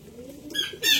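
A pigeon held in hand gives soft, low cooing, with brief rustling bursts like feathers or wings shifting; close and short, with no talk.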